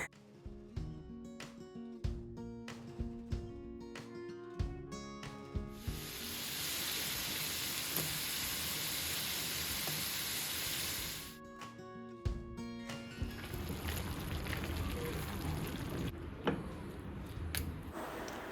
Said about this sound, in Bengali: ডিম ভাজি করতেছি, চিকেনটাও গরম করছি, ডিম ভাজা